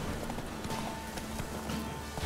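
Hooves of Roach, a horse in The Witcher video game, clip-clop in a quick, steady galloping rhythm under a faint ambient game backdrop, fairly close and moderately quiet.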